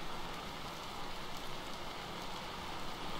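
Steady rain in the survival game Vintage Story, a dense, even hiss of falling drops that fills the whole stretch without pause, fairly quiet and with no voices over it.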